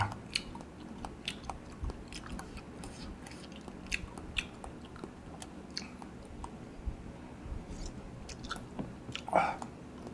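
Someone eating tomato ramen with broth, quiet wet chewing and slurping at close range, small clicks and a louder squishy bite near the end, no speech.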